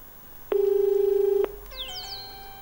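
Telephone tone after a caller's line dropped on a live call-in program: one steady beep of about a second, then a short chime-like tone sequence, alone and clear.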